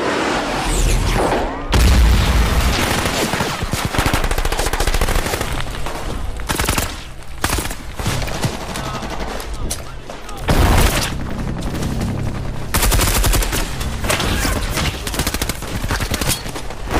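A chaotic war-film battle soundscape: a heavy rocket explosion boom followed by sustained bursts of rapid gunfire, loud and continuous, with voices faintly mixed in.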